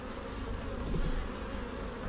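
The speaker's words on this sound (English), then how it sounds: "we get all the bees to kind of settle down" Dense, steady hum of many honey bees buzzing around hive boxes during a mid-October hive inspection, a continuous close drone at even loudness with a slight swell midway.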